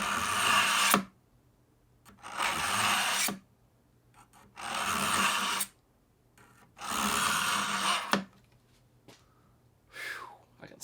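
A knife is drawn through a cheap Amazon pull-through sharpener in four harsh, grinding scrapes, each about a second long and separated by short pauses, close up, with a few small clicks in between.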